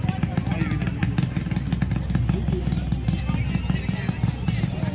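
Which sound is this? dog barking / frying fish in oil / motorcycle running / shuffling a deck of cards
motorcycle running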